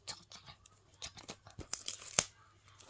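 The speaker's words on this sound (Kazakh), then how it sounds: "Қайшымен қиямыз жасын." Scissors cut through paper or thin material in a quiet room, producing a short series of soft, irregular snips and crisp crinkles at close range with no talking.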